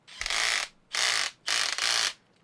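A cordless drill's clutch slips and ratchets as the chuck free-spins, four loud, even bursts of rapid clicking separated by brief pauses, close by and with no talk.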